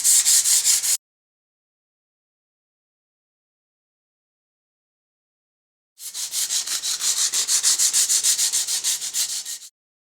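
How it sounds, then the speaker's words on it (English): Milk paint on the wooden edges and carving of a wall shelf is lightly sanded through. There is a short rasping burst, a pause of silence, then a longer run of quick, rhythmic back-and-forth scrubbing strokes up close. "just barely sand through some of this paint along some of the edges and especially around this this carving here"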